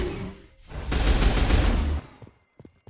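Rapid pistol gunfire from the video game Mass Effect, a dense burst of fast shots lasting about a second, loud and close, with no talk over it, then quieter scattered clicks.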